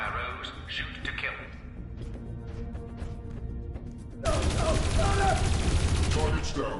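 Gunfire rattles in the video game Dreamfall Chapters, scattered shots and impacts under tense background music and game voices, then a louder, denser burst of rapid fire and crashing in the last seconds.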